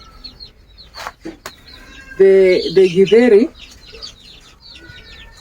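Chickens clucking in a village yard, a short burst of loud, close clucking and squawking in the middle, with people talking quietly before and after.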